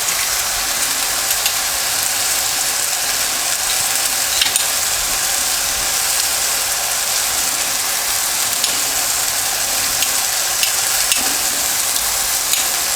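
Pork chilli frying in a pan with oyster sauce added, giving a loud steady sizzle with faint stirring scrapes throughout.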